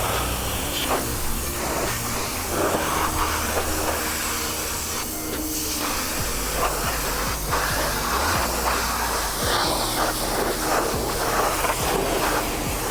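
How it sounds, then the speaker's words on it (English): An EGO cordless 2100 PSI pressure washer sprays a car during a rinseless wash, giving a continuous loud hiss with a steady motor drone underneath for the whole stretch. "Let's see what it can get off here with the pressure washer."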